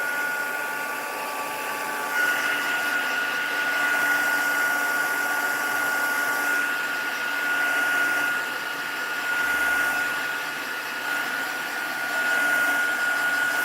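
Continuous whirring blow of a heat tool drying water on gold embossing during rose stamping, a steady close drone with slight swells in intensity and no voices.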